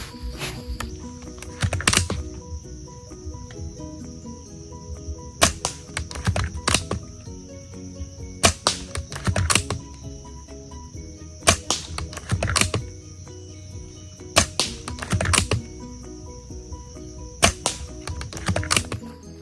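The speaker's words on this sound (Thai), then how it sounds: "จะได้ยินแค่เสียงสปริง เดี๋ยวจะไปยิงให้ดูนะ" Old Maruzen APS-2 spring-powered airsoft sniper rifle firing 0.20 g BBs at a 15 m target, repeated sharp snapping shots with spring twang spaced a second or two apart over steady background hum.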